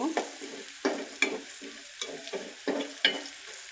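A spoon scrapes and stirs spices with salt in a frying pan in repeated strokes, about seven in a row, over a soft sizzle, close by with no talking.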